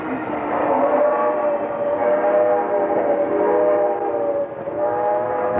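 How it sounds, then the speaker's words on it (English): Busy 1950s Southern Pacific railroad yard with switch engines working and train cars moving, heard as a sustained mechanical drone with steady tonal layers, loud and continuous, in a narrow old-film sound with no voices. "This was a very busy yard, with many switch engines working, cars moving back and forth"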